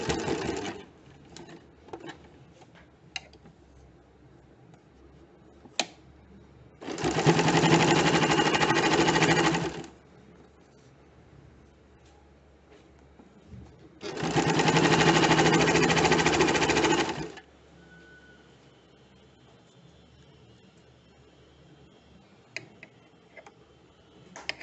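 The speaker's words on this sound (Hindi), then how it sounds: "टॉप स्टिच के लिए भी कॉर्नर को अच्छी तरह से शेप के हिसाब से सिलाई करेंगे।" A home sewing machine top-stitches the corner of a shirt cuff in two loud runs of about three seconds each, a fast steady whirring hum, separated by quiet pauses with small clicks and fabric handling.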